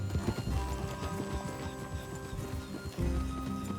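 Horses trot in the Red Dead Redemption 2 video game, a quick, even clip-clop of hooves with faint tack jingling, fairly near and steady, with no talk over it.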